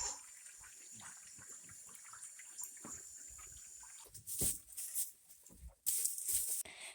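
Water runs steadily while a goat's water container is rinsed out in a barn, a continuous splashing rush that swells louder in the second half with uneven bursts.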